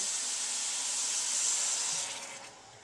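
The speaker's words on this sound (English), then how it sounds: "we're going to take 2 cups of chicken stock and deglaze the bottom of the pan" Chicken stock poured into a hot pan to deglaze it for beef stroganoff hits with a loud, steady sizzling hiss that slowly fades toward the end.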